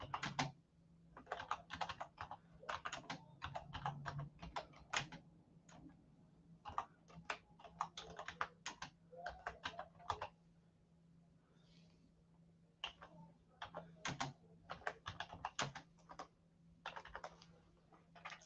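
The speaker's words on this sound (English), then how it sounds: "Let me type it in for the winners." Quiet typing on a computer keyboard during a live trivia night, soft clicking keystrokes coming in irregular bursts with short pauses, fairly close and faint, with no speech.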